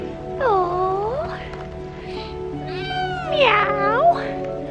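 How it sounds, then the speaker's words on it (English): A kitten meows several times up close in Tryavna, Bulgaria, giving drawn-out, rising and falling cries with short pauses between them. "I have this cute kitten."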